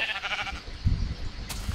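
Minecraft sheep bleating, a short wavering bleat up close followed by brief low thumps, with no talk over it.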